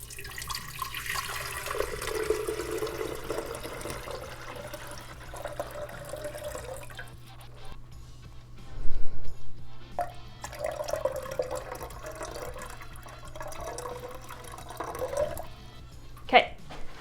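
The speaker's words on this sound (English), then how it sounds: "I've got cold water. We're gonna fill it up to the 6-cup mark." Cold water poured into a 1950s Color Glo Flavo-Matic coffee percolator, filled to the six-cup mark, a steady trickling and splashing that runs for many seconds, with a brief louder slosh midway and soft clunks near the end.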